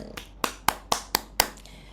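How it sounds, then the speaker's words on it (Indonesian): Six distinct, evenly spaced hand claps sound close and sharp during an online church small-group meeting, with a thin tail of other clapping fading out at the end. "Tepuk tangan buat Bu Indri."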